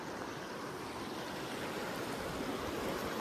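A flooded river surges through a forest near Sankos village, a continuous, full rushing roar of fast water, close by and without talk.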